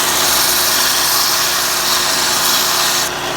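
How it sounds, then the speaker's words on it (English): A power sander grinds down metal, a loud, steady abrasive rasp with a high whine that runs without a break and eases slightly near the end. "I'll just sand it down."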